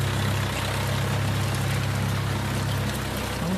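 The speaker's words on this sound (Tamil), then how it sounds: "கொட்டும் மழையில் டிராக்டர் மூலம் நிலத்தை பண்படுத்தும் பணி நடைபெற்று வருகிறது" A tractor ploughs a waterlogged paddy field during pouring rain, giving a steady, dense rumble of engine drone mixed with broadband rain hiss, continuous and loud throughout without speech.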